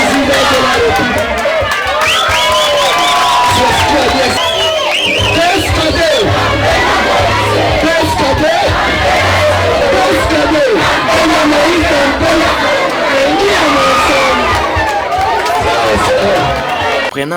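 A vast outdoor crowd roars and shouts without pause at a political gathering in Kalungwe, a dense wall of cheering voices, whistles and babble that stays loud throughout.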